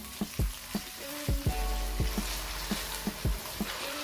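Vegetables and cornflour-egg mixture frying in a pan for a restaurant-style American chop suey, a steady sizzle broken by repeated knocks and scrapes of a stirring spoon, close and moderately loud.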